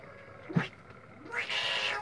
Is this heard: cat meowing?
yes